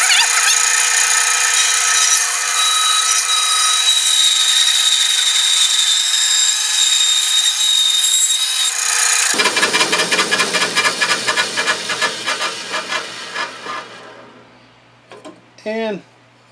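A power saw cuts a wooden ukulele headstock blank: a loud steady whine for several seconds, then a rough buzzing cut that pulses and fades as the blade slows, ending in a few faint knocks.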